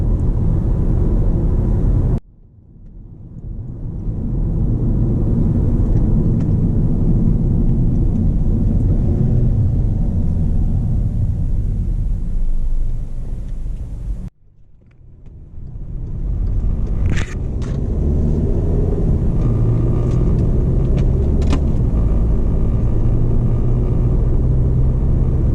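A 2014 Volkswagen Passat TSI SE drives around town, its steady engine and road rumble loud and close from inside the cabin, dipping twice as it shifts or slows before building again.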